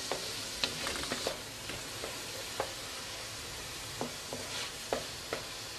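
Palak urad dal stir-fried in a pan: a soft steady sizzle broken by repeated sharp spatula clicks and scrapes against the pan, close by.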